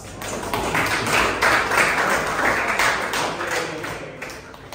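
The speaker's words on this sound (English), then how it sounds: "Give applause." A classroom of students applauding together in a physics lesson, a dense run of claps that fills the room at even strength for several seconds, with a few voices faintly underneath.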